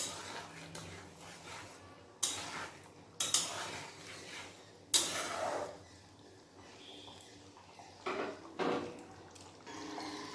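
A spoon scrapes and clinks against a pan as kasuri methi is stirred into a milky paneer dish, with several sharp metallic knocks amid softer stirring, fairly quiet overall.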